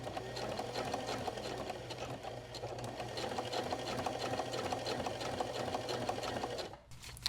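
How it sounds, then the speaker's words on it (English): A chainstitch sewing machine runs steadily, sewing fabric along a marked line, a continuous mechanical whir with rapid needle ticking that carries on alone before stopping abruptly near the end. "So I'm sewing on this line."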